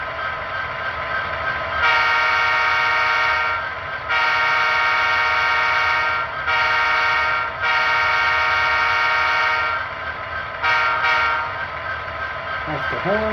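An Athearn Genesis SD70M model diesel locomotive horn sounds in several sustained blasts with short breaks between them, loud and close over a low idling engine hum.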